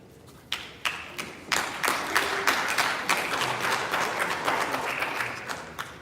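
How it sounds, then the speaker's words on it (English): Audience at a live political diaspora convention in Virginia clapping, starting with scattered sharp claps that build into sustained applause across the room, no voice on top. "I have to clap for the guy who started the clap."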